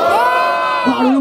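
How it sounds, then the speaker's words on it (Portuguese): A crowd at a rap battle in Barueri, São Paulo, cheers and shouts loudly and steadily, with high-pitched yells and whoops rising over the din. "Vamos lá, barulho pra cima do Vermelho"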